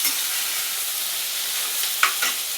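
Peanuts go into a sizzling pan of mixed vegetables for Maharashtrian bhogichi bhaji. A loud, even frying hiss runs throughout, with a couple of brief clatters of stirring near the end and no talking.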